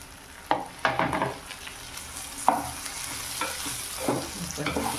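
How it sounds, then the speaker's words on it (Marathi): Okra stir-fried in a pan over a high gas flame, with a steady crackling sizzle and repeated scraping stirs in bursts, fairly close. "परतून घेऊया फास्ट गॅसवर"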